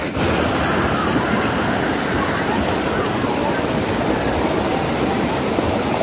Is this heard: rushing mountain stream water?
yes